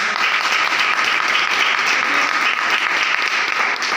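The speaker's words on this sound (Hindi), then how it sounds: "जोरदार ताली हो जाए।" Loud, steady applause from an audience at a direct-selling leadership gathering in Ghazipur, a dense wash of clapping lasting about four seconds without a break and with no voices rising above it.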